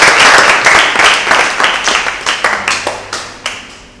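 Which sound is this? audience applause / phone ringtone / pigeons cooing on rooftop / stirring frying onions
audience applause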